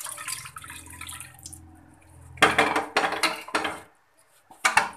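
Mutton is moved into an iron karahi with clanking, scraping bursts of metal, loudest in the second half, after a quieter stretch of low kitchen hum, with a final clatter at the end.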